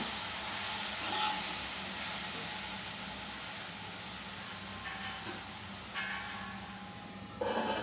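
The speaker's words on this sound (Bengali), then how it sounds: "শাকটা আমি ভালো করে বেগুন আর বড়ির সঙ্গে কষিয়ে নেব।" Gima greens stir-fry with eggplant and lentil dumplings in a pan, giving a steady close sizzle and hiss with a few brief stirring scrapes and clinks near the end.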